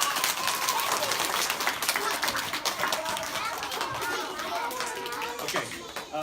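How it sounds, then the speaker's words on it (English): Children and an audience applaud at a school award event, with dense clapping, children's cheers and crowd chatter mixed with talking throughout. "give yourselves a round of applause, guys"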